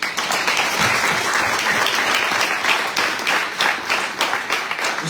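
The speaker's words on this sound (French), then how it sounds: "qu'on applaudit très très fort" Sustained audience applause at a cycling team presentation for the 2024 Tour de Guadeloupe, a dense, steady wash of many hands clapping close and loud throughout, with no voices standing out.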